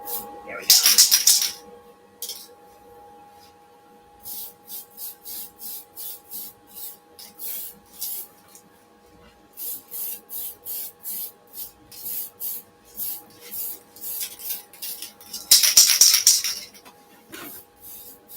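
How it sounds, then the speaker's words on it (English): Spray can spraying lacquer paint on an FT-011 during custom painting, several loud hissing bursts at the start and end, with shorter rhythmic spurts between them and talking throughout. "Good old spray bomb"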